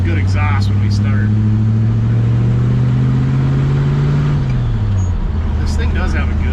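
A 1967 Chevrolet C10 longbed pickup rumbles along a county road with a deep, steady engine and exhaust drone that rises slightly in pitch before dropping as it shifts, loud and close throughout, with a voice briefly talking over it.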